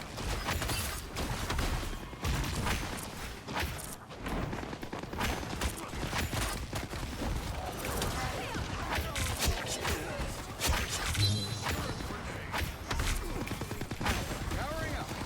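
Rapid automatic gunfire from Punisher's deployed turret in the Marvel Rivals video game, a dense continuous rattle of shots amid game clatter and impacts, with voices talking over it throughout.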